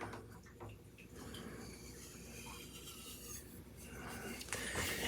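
Sandpaper of about 120 grit rubbed over a knife strop to refresh its surface, a soft, steady rasping scrape running throughout at low level, close by with no talk.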